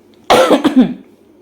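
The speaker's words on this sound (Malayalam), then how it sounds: "ചുമ വരുന്നുണ്ട്" A single sharp cough bursts out close by, rasping briefly before fading into quiet room noise.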